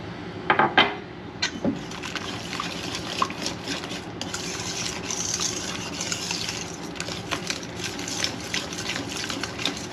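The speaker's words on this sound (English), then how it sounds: "We're just gonna mix to incorporate" Melted butter, a whole stick, being stirred into mashed bananas for banana bread, giving a soft, wet squelching and scraping in a bowl, with a few sharper utensil knocks near the start and then steady close mixing.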